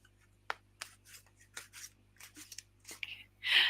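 Soft, close shuffling and rubbing noises come in irregular bursts, ending with a louder rustle.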